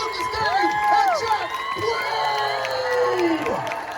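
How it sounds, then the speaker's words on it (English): A convention crowd at a fan panel cheers and shouts, with high whoops and screams rising over a murmuring crowd and some scattered clapping, loud and lively throughout. "Let's give a huge round of applause once again for Lukas Gage and"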